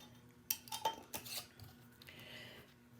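A lid set onto a glass jar, with a few sharp clinks and taps followed by a brief scraping twist, close up and alone without voices.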